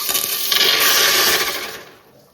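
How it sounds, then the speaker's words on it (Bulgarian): Water rushes out of a depressurized valve during a PN10 pressure test, a loud, steady broadband hiss that holds for about two seconds and then tails off. "Сега ще покажем на клипа и самото разхерметизиране на крана."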